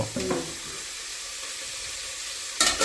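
Ingredients frying in a pan for sambar, a steady broadband sizzle running throughout with a few stirring scrapes near the start and end, close and without talk.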